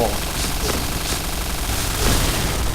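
Rapid gunfire with explosions from the shooter video game Point Blank, a dense continuous clatter of shots and blasts throughout, with a louder burst near the end.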